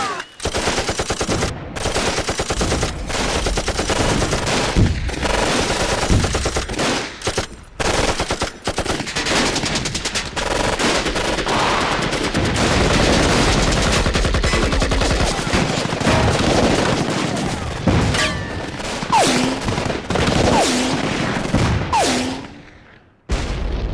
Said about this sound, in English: A machine gunner gives cover to the infantrymen of the 79th Division